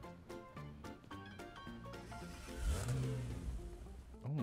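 Car engine in PUBG Mobile revving and accelerating while driving, a steady mid-pitched drone that rises in pitch midway, heard over game music, no talk.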